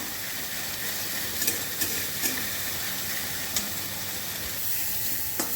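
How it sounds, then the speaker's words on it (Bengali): Spice paste for a Bengali dhokar dalna curry frying in a pan, a steady loud sizzle with occasional scrapes and clicks of a spoon stirring, no voices over it. "এবার মশলাটাকে ভালো করে কষিয়ে নেবো"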